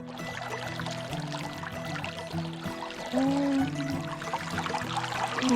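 Water pours and trickles while feet are scrubbed outdoors on a backpacking trail near a lake, a close, steady splashing flow that swells louder partway through.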